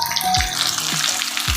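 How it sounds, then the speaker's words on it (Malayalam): Mackerel frying in a pan over a low flame, a steady soft sizzle with small crackles running throughout, close and continuous, with no voices. "ഇത് തീ സിമ്മിൽ ഇട്ട് വേണം വറുക്കാൻ."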